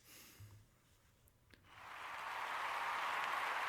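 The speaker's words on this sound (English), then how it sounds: "they exploded into deafening cheers of delight at the violence presented to them" A crowd in a visual novel game swells into loud sustained cheering after a quiet stretch, rising to a dense roar of voices that holds steady to the end.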